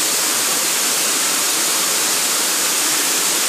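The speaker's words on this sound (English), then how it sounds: "Look at that gorgeous waterfall." A gorgeous waterfall pours in a steady, dense roar, broadband rushing water that stays loud and unbroken throughout with no voices over it.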